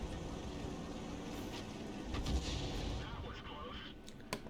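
M40 self-propelled artillery gun firing in a tank video game, a deep boom that swells and rumbles for a couple of seconds amid low background engine noise, followed by a faint distant thud.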